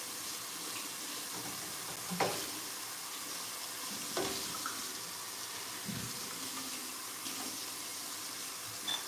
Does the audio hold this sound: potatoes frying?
yes